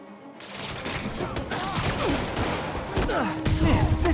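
Rapid bursts of gunfire in the Marvel's Spider-Man video game crackle across a busy action scene, several overlapping shots building louder toward the end, with game voices talking over the fighting.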